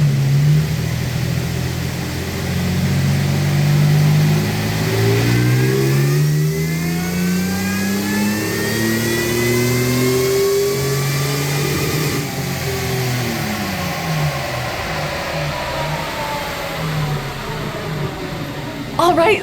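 A supercharged Toyota Tacoma TRD engine on a dyno revs up in a long rising pull, holds, then falls back, a loud steady mechanical roar, with someone talking over part of it.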